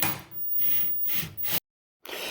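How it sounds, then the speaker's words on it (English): A drill bit skipping and chattering against a bolt head, slowly stripping it while installing a Riva Torino range hood; close, harsh grinding bursts that break off into a brief silence before resuming. "The sound that you hear with the bit and the bolt, the bit is skipping, and this is stripping the bolt slowly"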